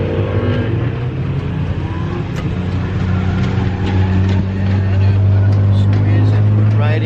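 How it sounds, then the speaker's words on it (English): Cars circling a drift track roar and whine continuously at a steady distance, engines revving over a constant low rumble, with people talking nearby under the noise. "the noises is because we are at the drift track"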